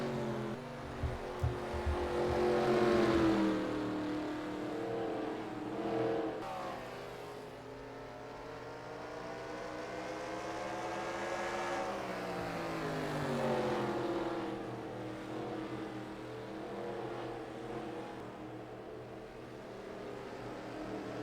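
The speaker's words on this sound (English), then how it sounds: "Jenkins now looking to pass the lap car of Kaz Gralla" Stock race cars on a racing circuit roar past in a steady stream of engine noise, rising and falling in pitch as they accelerate, shift and pass, loud and continuous throughout.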